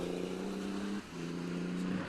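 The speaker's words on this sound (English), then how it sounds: "Yeah, this thing certainly moves for a diesel, this does. Sounds quite nice as well for a diesel." A diesel rally car engine drones steadily on a hillclimb shakedown stage, dipping briefly as it shifts gear before pulling on again at high revs.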